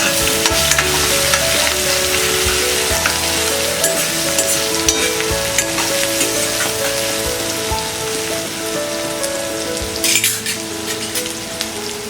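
Chopped onions with curry leaves sizzle steadily in hot oil in a pan for a moong sprouts curry, with a spoon stirring and scraping close by throughout and no voices.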